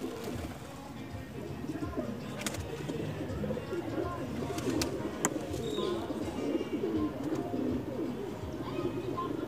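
A pigeon coos softly and repeatedly among other birds, its low rolling calls faint beneath a voice, with occasional sharp clicks and rustles from handling nearby.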